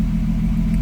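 A Mk2 Volkswagen Jetta coupe's swapped 3.2 VR6 engine idles steadily nearby while warming up, a deep, even rumble with no revving or change in pitch.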